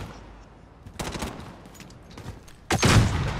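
Bursts of automatic gunfire in Call of Duty: Modern Warfare, a short volley followed by a louder, denser burst at close range, with quieter background rattle in between.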